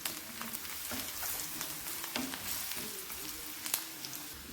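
Turmeric, coriander powder and amchur powder sautéing in a pan, a soft steady sizzle with faint scraping stir sounds, quiet and continuous.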